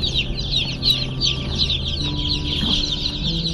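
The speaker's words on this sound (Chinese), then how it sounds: "我的小鸡到了" A boxful of newly delivered baby chicks peeps in a dense, continuous high chorus of overlapping chirps, close and steady throughout, with no voices.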